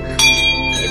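A single bright bell strike at a Koteshwar temple, where bells hang along the walls, sharp and close, ringing briefly as it fades.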